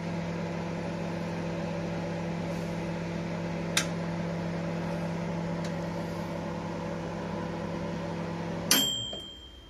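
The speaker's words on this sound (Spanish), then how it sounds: "yo lo voy a hacer en mi microondas que tiene función de grill" A microwave oven runs on its grill function, gratinating broccoli, cauliflor and carrot, with a steady low hum and faint clicks, ending with a sharp click as it stops.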